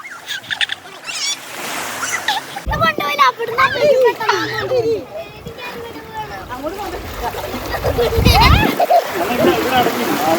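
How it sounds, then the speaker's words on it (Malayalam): A child playing in water makes a loud splash near the three-second mark, then repeated splashing and bursts of splashing later on, with children's voices and chatter running throughout. "അവൻ മനഃപൂർവ്വം ചാടുന്നുണ്ട് വെള്ളത്തിലോട്ട്"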